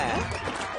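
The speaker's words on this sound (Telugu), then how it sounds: "చప్పట్లు అదిరిపోతున్నాయి" A dense wash of audience clapping and cheering fills a brief moment in a comedy film scene, loud and continuous from start to finish.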